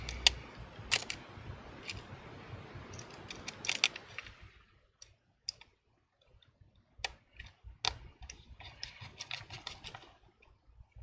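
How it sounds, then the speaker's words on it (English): Small screws being driven into a MacBook Pro's Wi-Fi and LCD board with a T5 driver, giving sparse, sharp metallic clicks and ticks close up, some quick and clustered, others spaced apart against a quiet background. "I'll be inserting the screw to close the Wi-Fi and the LCD board together"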